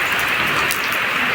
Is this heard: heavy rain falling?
yes